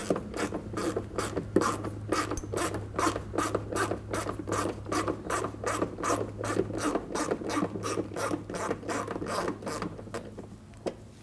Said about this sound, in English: Use your 7mm socket to go ahead, loosen and remove these screws.